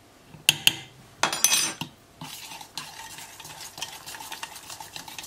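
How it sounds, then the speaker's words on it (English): A utensil stirs yogurt and gram flour in a bowl, opening with a few sharp clinks and a scraping burst, then settling into a steady rhythmic swishing and tapping against the bowl. "Mix well."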